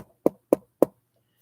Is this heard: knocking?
yes